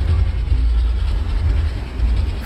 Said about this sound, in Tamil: Fried train சமாஸ்புரி Patna fried train.